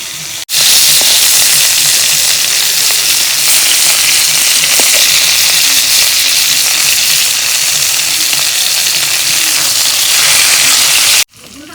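Rohu fish pieces fry in hot oil, giving a loud, steady, close-up hiss that runs unbroken for about ten seconds and stops abruptly, with no voices.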